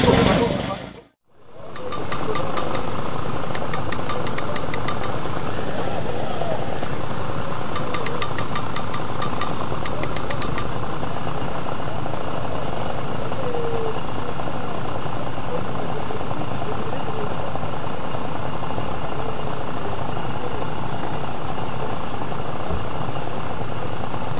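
Small Solex moped engine on an old two-wheeler ride, starting after a brief pause and settling into a steady, close, fairly loud idle with a few faint bell-like chimes early on.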